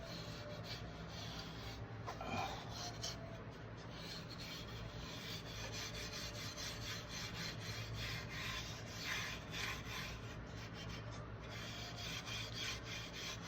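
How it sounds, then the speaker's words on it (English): Light hand sanding of stained wood with a roll of abrasive: a soft, steady rubbing rasp that continues evenly throughout, close but quiet, with no talking. "I like to open up the roll and just kind of give it a nice light"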